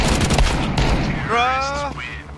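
Video game shootout gunfire: a quick cluster of loud sharp shots at the start, followed by a ringing whistle-like tone and ongoing game noise.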